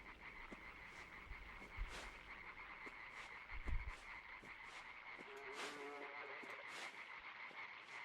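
Frogs croak steadily in the dark forest of the video game Limbo. Their rhythmic calls repeat for eight seconds, with a few soft low thuds underneath and no talking.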